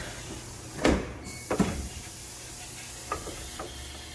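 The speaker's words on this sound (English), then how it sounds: "Opening the doors, and here's the doors inside the dryer." A few short thuds and clunks of the doors of a dryer in an ultrasonic cleaning system being opened and knocked, spaced out over a steady hiss.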